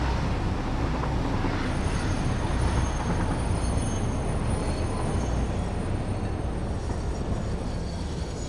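An automated train in the Satisfactory game rolls steadily along its track, a continuous rumbling wheel and carriage noise holding at an even level throughout with faint high squeal tones.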